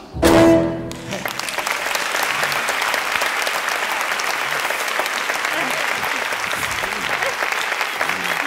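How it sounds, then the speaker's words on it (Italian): An audience at a children's performance of Hansel and Gretel breaks into sustained applause, dense steady clapping that continues evenly after a short opening tone. "Questi bambini meritano un bel applauso!"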